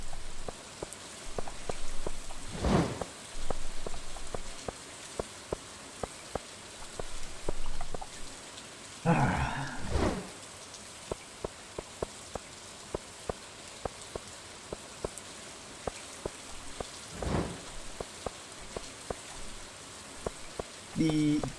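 Rain falling in the farming game Stardew Valley, a steady patter of raindrops across the whole stretch with brief louder bursts and regular soft ticking from the game, while someone talks at times.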